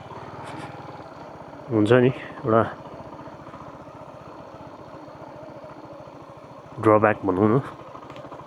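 A motorcycle engine idles steadily with an even, close, low rumble throughout, while someone speaks briefly over it twice.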